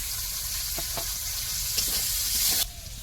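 Chopped tomato goes into a pan of hot oil with grated ginger, bay leaf and cumin, producing a steady close sizzle with a few stirring scrapes, then a brighter hiss that cuts off near the end.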